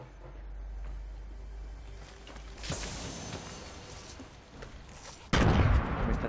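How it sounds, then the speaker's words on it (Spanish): Grenade blasts in the video game Fortnite: a sharp explosion near the three-second mark, then a loud, dense burst of blast and debris noise closing the clip, over low game rumble. "Me está tirando granadas."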